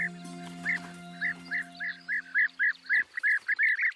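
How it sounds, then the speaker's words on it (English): A series of short, rolling bee-eater calls repeats rhythmically, clear and fairly close, over vineyard terraces, after a low droning tone fades out. "Bee-eaters."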